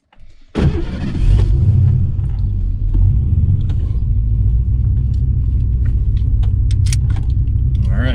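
A 1988 Ford Mustang Foxbody coupe engine cranks and fires up, then settles into a loud, steady rumbling idle and drive sound, close by, with faint clicks and small rattles over it.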